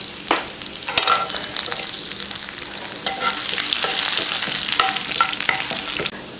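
Dried red chillies, chana dal and chopped garlic sizzle in hot oil in a pan, a steady loud frying hiss with scraping stir strokes and a few sharp spatters.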